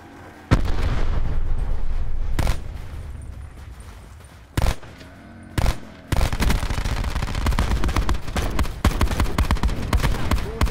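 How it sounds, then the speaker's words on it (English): A frag grenade blast in Call of Duty Black Ops 4 Infected mode multiplayer, heavy booming bursts that stand out amid near-constant loud gunfire and explosions throughout. "Throwing frag."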